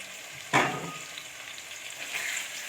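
Ginger-garlic paste drops into a pan of chicken and turnip with a sudden burst of sizzling, which then settles into a quieter, steady frying hiss, with a slight swell of stirring near the end; no one speaks.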